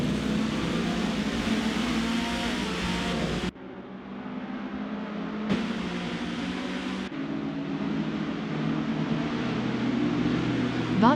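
Vintage touring cars at a race start at Circuit Mas du Clos in Aubusson, France, produce a steady engine drone broken by abrupt cuts between shots, rising slightly toward the end, with no speech.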